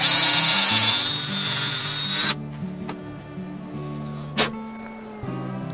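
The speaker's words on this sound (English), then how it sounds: "Now we're going to drill a hole in the center point that I marked." A power drill whines loudly for about two seconds while boring a hole in wood, then cuts off, leaving quieter background noise and a brief knock.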